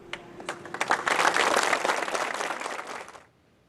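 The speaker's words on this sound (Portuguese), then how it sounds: "uma salva de palmas marcou o horário exato em que o incêndio começou" A crowd at a memorial for the Santa Maria fire breaks into applause: scattered claps swell into dense, sustained clapping for a couple of seconds, then stop abruptly.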